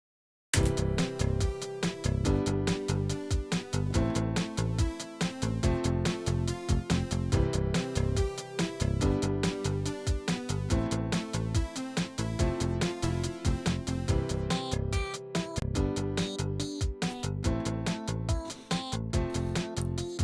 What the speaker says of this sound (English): And then you have Boyfriend sing this part